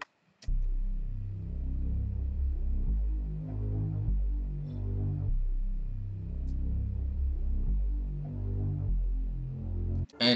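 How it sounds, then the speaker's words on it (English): A deep, throbbing synth bass plays a steady repeating pattern of sustained low notes, loud and alone for about ten seconds before cutting off. "Next, I added this synth bass."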